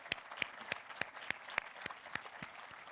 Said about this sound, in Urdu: ان عظیم بچوں اور بچیوں کے لیے اور ان کے والدین کے لیے بھرپور تالیاں لگائیں